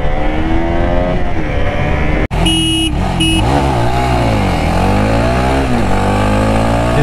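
A KTM RC 200 and a Jawa 42 Bobber 334 run a drag race, their engines loud and close. The roar cuts out briefly, then rises and falls as the bikes rev and shift gears.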